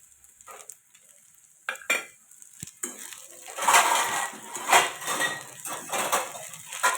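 A spoon scrapes and clatters around a pan of khichdi topped with crushed peanuts, with a soft sizzle beneath, in uneven bursts of stirring, close and fairly loud, with no voices.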